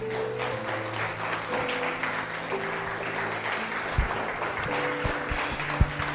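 Church congregation clapping in praise, a steady wash of applause under sustained organ or keyboard tones, with a few sharper claps standing out toward the end.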